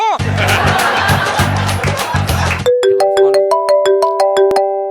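Chatter and laughter are cut off by a loud phone ringtone, a bright repeating electronic melody playing up close.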